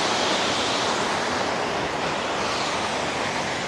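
Steady, broadband rushing of water flowing into a small, gentle creek pool along a state trail, close and continuous with no breaks and no voices.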